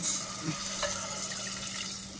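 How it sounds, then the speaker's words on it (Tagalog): Water poured into a cooking pot for saluyot (molokhiya) soup, a steady rushing splash that starts abruptly and runs on evenly, close and fairly loud with no talking. "ilagay nyo na yung tubig"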